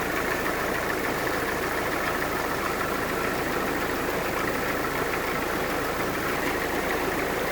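A 1946 Willys CJ2A Jeep engine running after sitting all winter, a loud, steady, close-up idle with a rough, continuous mechanical clatter and no pauses.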